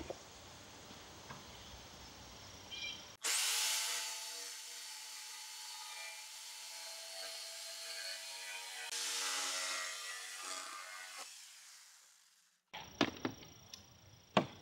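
A saw cuts an inch off each end of lumber boards for a baseboard frame, one long continuous rasping cut running about nine seconds, fairly close and steady, then stopping before a few sharp knocks of handling wood.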